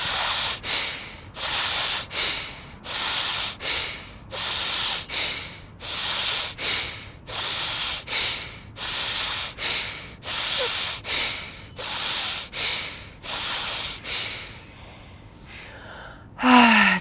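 A round of rapid pranayama breathing: about fifteen forceful, evenly spaced nasal exhalations come in a steady quick rhythm, close and loud. A short quiet pause follows, then one final breath.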